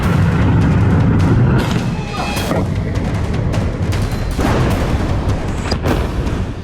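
An Israeli air-strike missile hits a building in a dense part of Beirut, with a loud, sustained roar of blast and rumbling debris, continuous and heavy throughout with a few sharper cracks within it.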